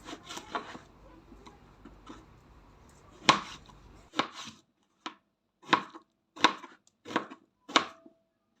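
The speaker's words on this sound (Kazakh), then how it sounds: "Енді оны 4 бұрышты үлкендеу етіп турап аламыз" A knife chops eggplant into large square pieces on a board, about ten crisp separate strikes, first in a quick cluster and then spaced out, close and clear with no talk.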